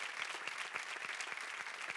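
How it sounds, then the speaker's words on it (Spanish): A studio audience at a television variety show applauds, a steady, even patter of many hands clapping at moderate volume throughout. "Le damos un aplauso."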